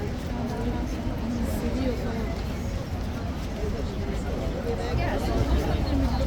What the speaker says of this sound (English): I'm not sure if you can hear all the voices behind me